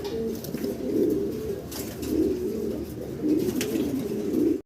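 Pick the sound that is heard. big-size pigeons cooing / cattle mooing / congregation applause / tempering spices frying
big-size pigeons cooing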